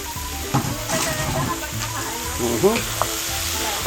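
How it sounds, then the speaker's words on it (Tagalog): Pork belly sautés in a pan for a classic pork menudo at a street-food stall, a constant sizzle with stirring clatter and a few sharp knocks, close, with faint voices mixed underneath. "Tapos ito na, si liempo. Gisa na rin."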